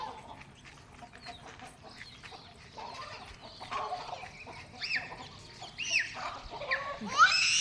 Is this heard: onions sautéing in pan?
no